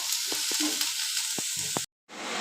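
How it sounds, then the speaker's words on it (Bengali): Bitter gourd and potato sizzle steadily in hot oil, with a few scraping stirs and clinks of a spatula, then a brief drop to silence before the frying resumes. "উচ্ছে ভাজা হচ্ছে, উচ্ছে আলু ভাজা"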